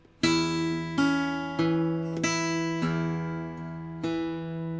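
Fingerpicked blues guitar plays a slow measure of about six ringing plucked notes, each sustaining and fading, clear and close with no voices.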